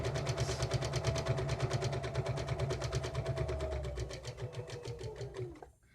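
A sewing machine stitches a grocery bag holder in white thread, running in a steady fast mechanical rhythm with a motor hum, then slowing and stopping near the end.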